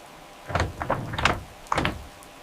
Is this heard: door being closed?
yes